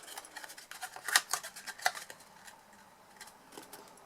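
Scissors trimming cardstock while making a soap box, a series of crisp close snips with two sharper cuts, then lighter rustling of paper, no speech.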